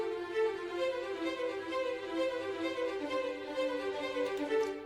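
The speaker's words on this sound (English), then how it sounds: "These are the staccato strings or the short strings." Short, detached string notes in an orchestral arrangement pulse in a steady, driving rhythm, layered over a sustained harmonic bed, full and continuous throughout.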